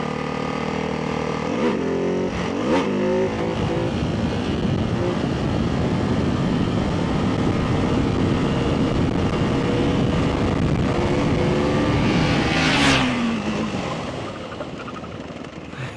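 A supermoto motorcycle engine revs hard and steadily during a seated wheelie on a Ducati 698 Mono or KTM 690 SMC R, loud and close, rising in pitch before easing off near the end.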